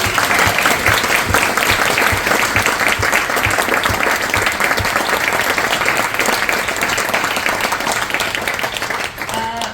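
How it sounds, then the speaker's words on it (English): Warm, sustained audience applause in a gallery after an artist's talk, dense clapping filling the space evenly before tapering slightly at the close, with a voice briefly audible underneath. "So just a big wonderful round of applause for Steffie Yee"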